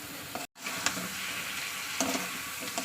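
Fish pieces sautéed in a pan with spices whose oil has separated, giving a steady close sizzle with faint stirring scrapes, briefly cut by a short dropout near the start.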